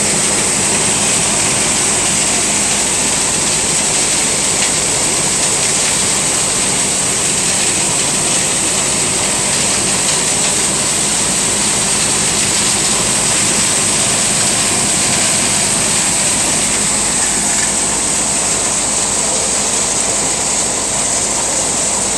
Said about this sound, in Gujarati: હવે આપણે ટ્રેક્ટરનું પરફોર્મન્સ બતાવીશું ગવાર તો નીકળે છે જુઓ